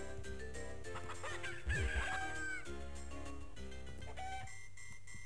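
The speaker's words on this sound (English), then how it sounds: "let's go ahead and get the cuckoos in. And get a gold cuckoo." Cuckoo chickens in Zelda Minish Cap make synthesized crowing and clucking calls over chiptune game music, with a rising squawk near the middle and bright beeping tones.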